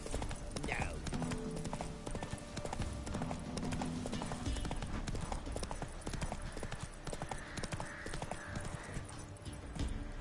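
Horse hooves clip-clop at a gallop in The Witcher 3, a steady rapid beat running through the whole stretch under game music and ambient sound, with voices speaking briefly over it.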